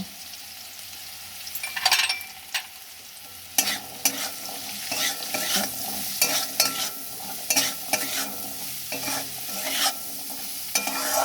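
Pumpkin stirred with salt and turmeric in a pan, a steady close sizzle of frying punctuated by repeated scraping knocks of a spatula against the pan at an uneven rhythm.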